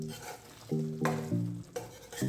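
A spoon stirs potato masala in a pan, soft scraping strokes over a faint sizzle, close and fairly quiet, with a few brief clinks against the pan.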